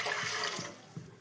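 Half a litre of water poured into a cooking pot before boiling, for neer kozhukattai made with 200 grams of flour: a soft, faint splashing and trickling stream with a few small gurgles.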